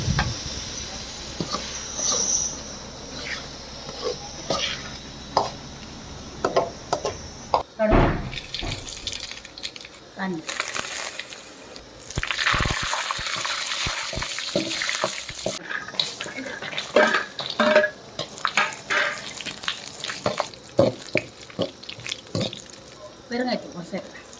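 Water is poured into a cooking pan while pickle and curd rice are made, a running splash of a few seconds mixed with kitchen clatter and bursts of talk.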